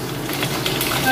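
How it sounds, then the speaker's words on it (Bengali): Potato pieces frying in hot oil after salt is added, a steady close crackle and sizzle running throughout the short moment with no one talking. "আমার তেলটা গরম হয়ে গেছে, আমি এবার আলুগুলো দিয়ে দিচ্ছি এতে"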